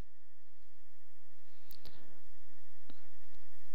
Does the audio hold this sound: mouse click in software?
yes